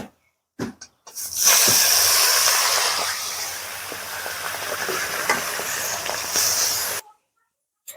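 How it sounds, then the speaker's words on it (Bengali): Rui fish fries in hot mustard oil in a village kitchen, a loud steady sizzle and crackle that starts sharply after a brief pause and runs unbroken for several seconds before cutting off, with no talking. "বাকি মাছগুলো ভেজে নেব"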